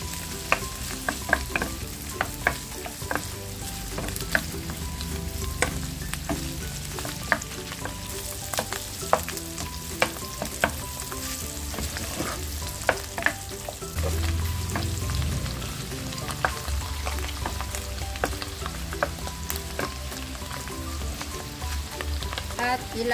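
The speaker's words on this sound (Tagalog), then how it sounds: "At ilagay na natin itong ating mushroom. Lulutuin lang natin ng 30 seconds." Mushrooms sautéing in a pan for creamy Pinoy-style carbonara, a steady close sizzle with crackling pops and occasional stirring scrapes running throughout.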